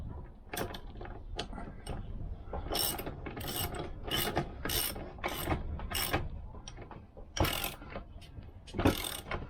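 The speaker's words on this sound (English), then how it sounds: "If you tighten in that, and you can just hold it, and just tighten up your socket" A ratchet socket wrench clicks steadily while a fastener is tightened during a Lambretta scooter engine rebuild, giving a close, fairly quiet run of rapid ratcheting bursts with no talking.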